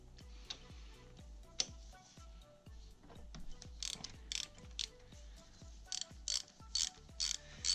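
A ratchet with a 10mm socket works an engine bolt loose on an Arctic Cat/Vinson 500 top end, with steady, quiet rhythmic clicking in quick repeated strokes, close up and free of speech.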